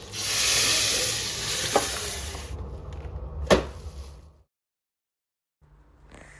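Tomatoes are tipped into a hot frying pan for dal gosht, setting off a loud hissing sizzle with a couple of sharp clinks. The sound fades into a brief silence before quieter kitchen noise returns.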